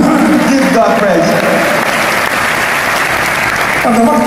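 Church congregation clapping in praise to God, a dense burst of applause under a speaking voice that fades at the start and returns near the end.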